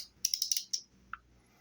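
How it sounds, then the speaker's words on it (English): A Mugen Seiki B0541 pin replacement tool on a nitro RC car is turned to press a pin in, giving a quick run of five or six small, close clicks followed by a single softer tick. "grab our crescent wrench so that we can hold this. And just spin the pin right on in."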